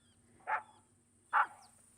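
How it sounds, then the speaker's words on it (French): Two sharp barks from Snuffy, a small cartoon dog, spaced about a second apart in a quiet forest scene, each short and punchy over a faint steady hum. "Snuffy courut vers un arbre et se mit à aboyer."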